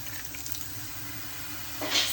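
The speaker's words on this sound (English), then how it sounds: "Let's whack a little bit of water in here." Water splashing into a pan of caramelizing onions, a steady close hiss of simmering with a brief louder burst of splashing and sizzle at the end, no talk.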